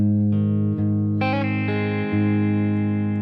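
Electric guitar with effects and distortion plays the third bar of the verse of a cover version of a song, sustained chords with a few picked notes, close and steady, with no voices.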